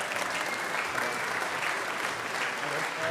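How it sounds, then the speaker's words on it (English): Continuous applause from an audience at a freight service awards ceremony as a trophy presenter is welcomed on stage, a moderately distant, even wash of clapping throughout. "Big round of applause, please, for Howard."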